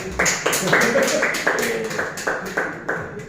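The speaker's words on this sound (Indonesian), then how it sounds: "Tepuk tangan untuk Pak Jeffrey." A small microteaching class claps in a few loud, spaced bursts, about eight distinct claps, close by and fairly rough.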